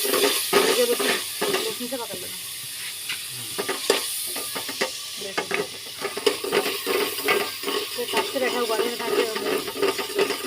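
A paste of ground tomato, onion, chilli and spices fries in a pan and hisses steadily, with frequent spatula scrapes and knocks against the pan throughout. Background voices are faint.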